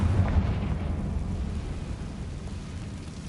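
A Confringo fire spell exploding in the video game Hogwarts Legacy, a deep low boom at the start that rolls into a fading rumble.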